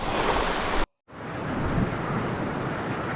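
Ocean waves breaking on the sand at Apsarakonda beach near Honnavara, a loud continuous roar of surf with a brief cut of silence before the wash resumes.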